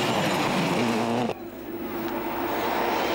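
A rally car in a 2003 Irish WRC rally stage roars past loudly, its engine rising, then cutting off abruptly into quieter ambient noise as it moves away.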